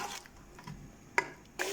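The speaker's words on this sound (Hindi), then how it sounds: "I have added 1 tablespoon of salt at this time and adding half cup of water." Half a cup of water poured into cooking chicken masala with salt, a brief, faint splash and trickle with a couple of soft clinks against the pot.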